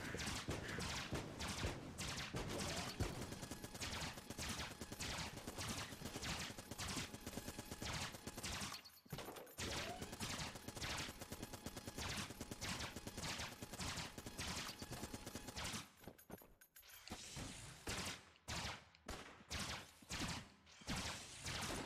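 Rapid weapon fire from the space shooter video game Everspace, a steady stream of quick repeated shots with a few short pauses, fairly faint in the mix.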